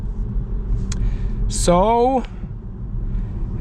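A Honda Civic e:HEV hybrid on the road makes a steady low interior rumble throughout, with a brief spoken voice over it partway through.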